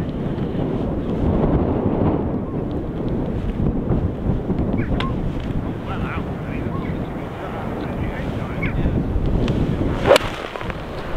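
Steady wind rushing across the open grounds of Ashburnham Golf Club, a continuous broad blustery roar that stays loud and unbroken throughout, with one brief sharp knock near the end.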